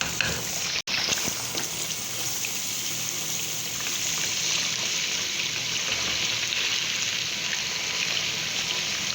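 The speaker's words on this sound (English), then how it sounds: "So now the chicken will fry in salt and ginger garlic paste." Chicken fries in a karahi with salt and ginger garlic paste, giving a loud, close, continuous sizzling crackle with one sharp click near the start.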